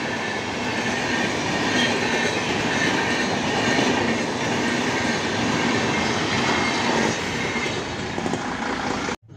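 The Bhubaneswar–KSR Bengaluru City express train rushes by at speed behind a locomotive, a loud continuous roar of wheels and rail noise holding steady throughout before cutting off at the end.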